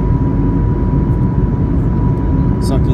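Steady broadband engine roar and airflow inside the cabin of a Norwegian Boeing 737-8 on landing approach, a continuous loud drone with a faint tone riding on it.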